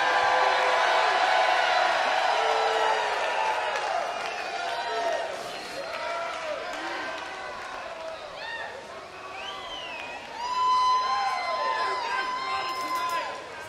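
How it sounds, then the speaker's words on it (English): At a Goose concert show in Pelham, Tennessee, the audience cheers, whoops and claps loudly. The noise then eases, and scattered shouts and whistles carry over a softer murmur before swelling again. "you are one of the loudest crowds I've heard in a very long time"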